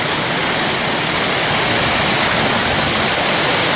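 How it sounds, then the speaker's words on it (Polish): A waterfall on stage nine of Corsica's GR20 mountain trail roars close by, a dense, unbroken wash of loud rushing water that drowns out everything else. "na etapie 9 taki oto wodospad, nie wiem czy będziecie słychać, co mówię"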